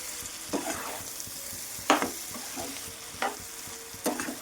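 Cauliflower egg masala curry being stirred in a pan, with a spoon scraping in a few distinct strokes over a low sizzle, fairly close and with no talking.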